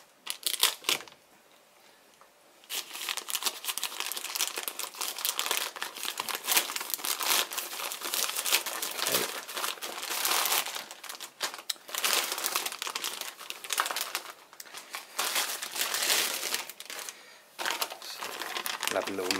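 Plastic packaging of an SPTA mini makeup sponge pad set is crinkled and pulled open, close, busy crackling and rustling after a brief quiet start, with a few short pauses.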